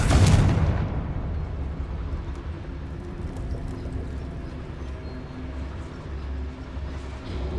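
A Confringo blasting spell explodes in Hogwarts Legacy, one loud boom at the very start that decays into a long low rumble with steady background game ambience.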